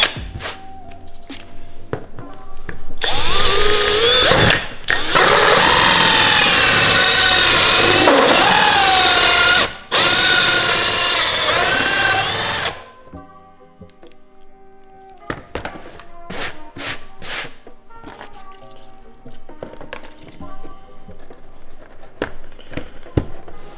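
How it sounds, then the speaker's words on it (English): A drill fitted with a 60mm hole cutter grinds through a wooden camper headliner panel in one long, loud, strained burst lasting several seconds, followed by scattered knocks and clatter. "go straight through the wood with this hole cutting piece"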